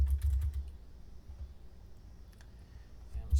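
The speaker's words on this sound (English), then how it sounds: "I have to type the name of the file" A file name is typed on a computer keyboard in short bursts of light, quick key clicks over a low background rumble, close by and fairly quiet.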